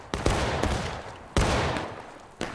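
Musket volleys in War of Rights, three loud close bursts of massed gunfire each trailing into a long rolling echo, with no talk over them.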